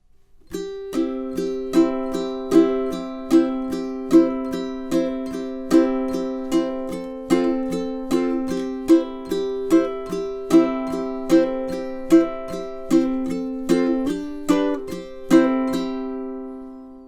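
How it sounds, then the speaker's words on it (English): A ukulele strums chords in a steady, even rhythm, bright and close, with regular accented strokes and occasional chord changes, ending on a ringing chord. "if we listen just to the chords and the rhythm being played together, that would sound like this"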